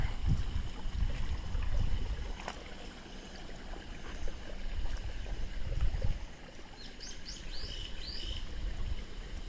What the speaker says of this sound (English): Sounds of water.